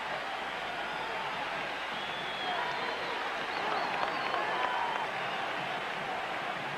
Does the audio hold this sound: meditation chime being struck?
no